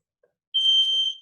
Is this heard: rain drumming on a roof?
no